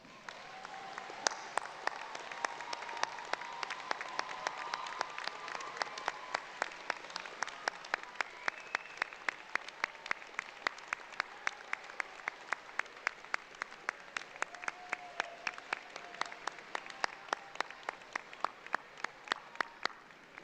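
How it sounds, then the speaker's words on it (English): An audience at a university graduate commencement ceremony applauds in a long, sustained wash of clapping, dense and steady with sharp individual claps punctuating it throughout, somewhat distant in a large hall. "please stand so that the graduates may show their appreciation with a"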